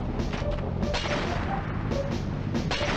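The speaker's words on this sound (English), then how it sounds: "Something's exploding." Explosions in the Crash Bandicoot video game, a steady rumbling barrage of booms and crashes with several sharper bursts, filling the whole stretch at fairly high level.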